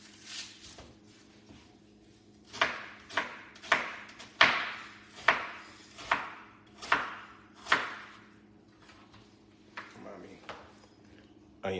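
Onions being chopped with a knife on a cutting board for gravy: about a dozen crisp, evenly paced knife strikes in the middle of the stretch, close and clear, with quiet talk around them.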